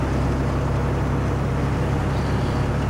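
Inside the cab of a 1981 Volvo F12 truck cruising in 7th gear at about 2000 rpm, a dense, steady engine and road drone fills the space, loud and unbroken with no talking.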